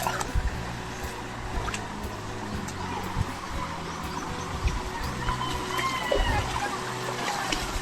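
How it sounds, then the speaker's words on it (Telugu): Steady rushing water of the Antharaganga waterfall stream at Kawadipally near Hyderabad, a broad continuous wash with scattered splashes and occasional voices in the background. "అండ్ వాటర్ ఫ్లో అయితే క్రేజీ వస్తుంది"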